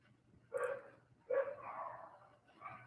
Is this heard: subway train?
no